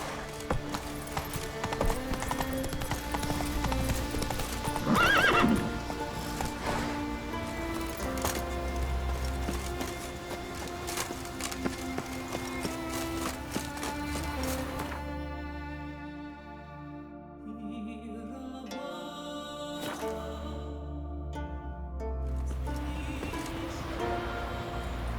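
Roach the horse gallops in The Witcher 3 game, hooves clip-clopping steadily over a continuous music bed, with a brief neigh early on.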